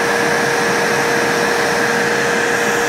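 Homemade bee vacuum running, a loud, steady motor hum with a constant whine and airy rush that holds unchanged throughout, with no voices.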